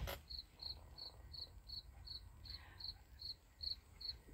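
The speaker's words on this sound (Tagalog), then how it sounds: "kahit na alas 10:30 ng umaga, may kuliglig" Crickets chirp in a steady, evenly spaced rhythm at mid-morning in a quiet rural vegetable garden, a dozen clear pulses over low, faint background noise.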